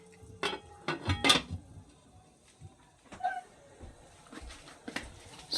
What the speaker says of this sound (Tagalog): So yan guys, takpan muna natin.